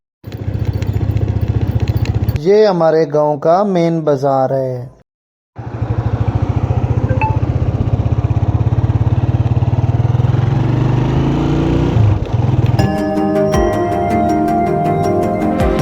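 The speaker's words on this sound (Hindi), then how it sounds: "चाबी लगा दी बाइक को, तो अब बाइक को बाहर निकाल लेते हैं।" A motorcycle engine runs steadily while being ridden from a village main market out toward a dirt road, loud and continuous near the mic after a brief pause, with someone talking over it.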